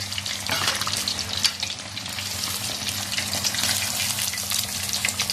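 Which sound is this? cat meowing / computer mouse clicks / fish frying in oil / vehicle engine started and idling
fish frying in oil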